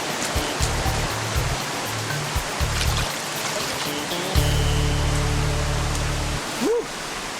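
A forest stream near a national park keeps up a loud, steady rush of flowing water, with occasional low thumps and splashes breaking through up close.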